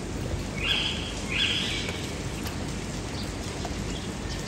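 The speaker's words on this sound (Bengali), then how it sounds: "এই কাকটা পেঁপেটা খেয়ে ফেলছে" Two harsh, rasping caws from a crow eating a papaya on a rooftop ring out close together over a steady hiss of falling rain.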